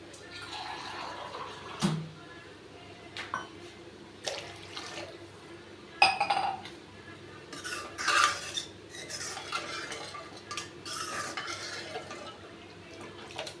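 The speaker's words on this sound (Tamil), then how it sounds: "இப்போ உங்களுக்கு எந்த அளவுக்கு தேவையோ அந்த அளவுக்கு இதோட வாட்டர் சேர்த்துக்கோங்க." Water poured into roadside-style tomato chutney in a pan and stirred, faint splashing and scraping swirls with occasional spoon clinks, quiet and uneven under light background hiss.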